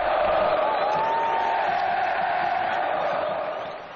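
Packed Flamengo supporters fill the Maracanã stands during a team training session, a dense, continuous roar of crowd voices and cheering, loud at first and fading slightly at the end.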